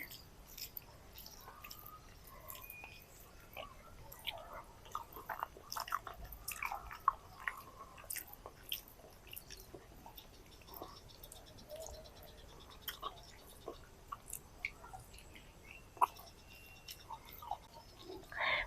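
Someone eats cauliflower potato curry with hot rice, making faint, intermittent wet chewing and soft mouth clicks close up in a quiet room.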